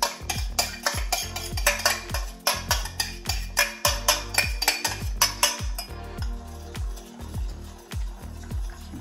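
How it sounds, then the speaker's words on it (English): Metal pans and utensils clank and scrape on a stove as pans are swapped while cooking, repeatedly in a quick, uneven rhythm, close by, with the clatter thinning out toward the end. "I'm going to swap pans"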